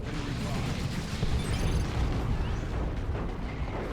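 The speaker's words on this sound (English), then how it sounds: "I hear some shotguns, do I?" Dense, continuous battle noise from Dawn of War 2 in a Space Marines versus Tyranids match, a loud roar of overlapping blasts and bursts that sounds like shotgun fire mixed into the clash of combat.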